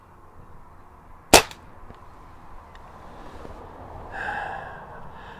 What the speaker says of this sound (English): Let's start shooting.